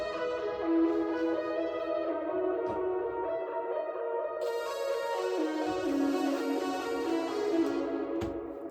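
Moog-style mono synth tones played alone, a sustained buzzy lead with gliding pitch and echoing reverb, fairly quiet, with brighter upper overtones swelling in halfway through.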